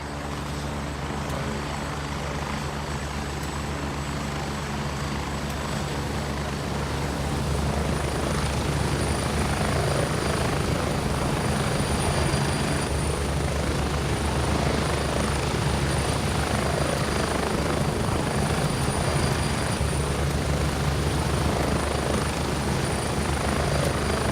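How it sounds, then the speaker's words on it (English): A helicopter lands in the military shooter Gray Zone Warfare, its rotor and engine roar steady, loud and close throughout, growing slightly heavier partway as it settles, with no voices. "I just called a helicopter and it should be landing here in a second"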